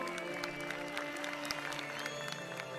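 Spectators clap and cheer steadily as a woman triathlete wins and reaches the finish line of an XTERRA off-road race, a dense wash of applause from a nearby crowd.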